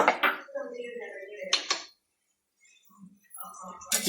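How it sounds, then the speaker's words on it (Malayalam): Metal cutlery clinks and scrapes against a pan while fried okra for a pachadi is scooped out, a few light rattles and taps close by under a voice, then a brief hush. "നമുക്ക് ഈ വെണ്ടയ്ക്ക കോരി എടുക്കാം നല്ലതായിട്ട് മൂത്തു"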